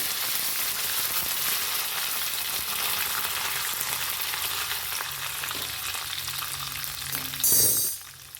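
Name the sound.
cumin and curry leaves sizzling in hot oil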